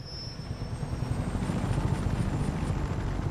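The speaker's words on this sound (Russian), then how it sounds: "Вертолет с оружием, отлично. Давайте полетим на нем." An armed helicopter in the action game Just Cause 3 flies close by with a loud, steady rotor chop and engine whine that builds slightly and holds throughout.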